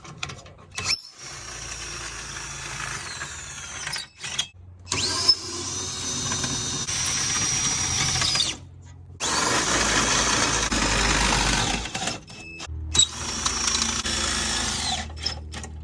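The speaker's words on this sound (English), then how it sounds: "we're just going to grab the drill and run them up" A cordless drill whirs in long, steady bursts with short pauses between, the motor strain and mechanical grinding of a 2019 Zinger ZR280BH travel trailer's stabilizer jack being cranked up close by.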